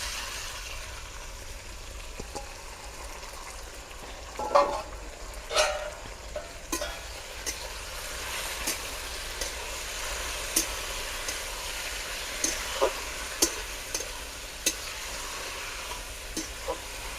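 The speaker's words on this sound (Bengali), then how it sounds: "পেঁয়াজটা রসুনটা ভালো করেই ভাজা হয়ে গেছে, এবারে কচি ফুলটা দিয়ে দেবো সেদ্ধ করা।" Onion, garlic and boiled taro flowers fry in a pan, a soft, steady sizzle broken by sharper clicks and scrapes of stirring that recur irregularly throughout.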